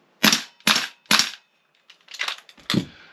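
A Tokyo Marui MWS airsoft rifle with an Angry Gun super heavy buffer and a stock magazine fires six sharp, close cracks, three evenly spaced, then a pause and three more, each with a short rattling tail.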